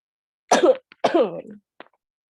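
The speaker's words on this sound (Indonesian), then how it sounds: "aduh aku batuk nih." Two harsh, throaty coughs close to the mic, one right after the other, followed by a tiny click.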